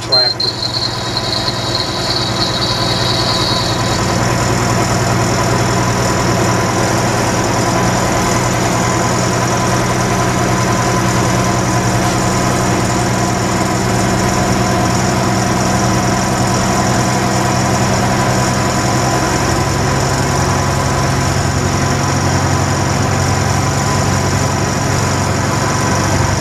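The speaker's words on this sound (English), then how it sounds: "start my engine up, build my air pressure back up to about 100" A truck tractor's diesel engine idles steadily and without a break during a CDL pre-trip inspection, a continuous low rumble at close range with a brief high whine early on and no voices.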